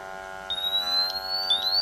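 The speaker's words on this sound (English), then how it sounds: "I like to cover the little alarm whistle right here, because it doesn't, I get tired of listening to it." BW MAX XT II gas meter's alarm whistle, partly covered, giving a thin high electronic tone with short chirping pulses above a steady buzzing hum, close and moderately loud.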